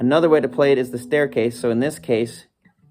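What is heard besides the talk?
No everyday noises stand out.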